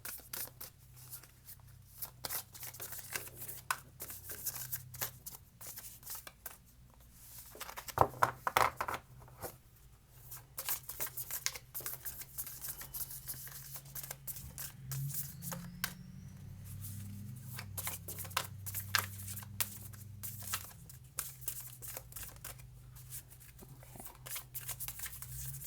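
Oracle cards being shuffled and handled: soft, irregular riffling and flicking noises, fairly faint, with a few louder card sounds near the middle.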